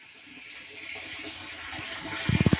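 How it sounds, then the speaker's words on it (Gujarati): Water pours steadily into a tank with a constant rushing hiss, and a few quick low thumps come near the end. "આ ટાંકામાં જાય છે પાણી હવે"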